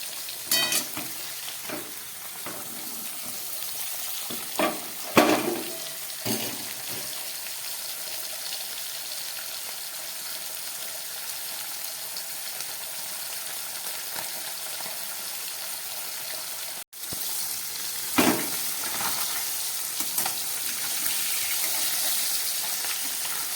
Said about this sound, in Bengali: মাছগুলোকে দু খেপে ভাজতে হবে, অনেকগুলো মাছ ধরলো না।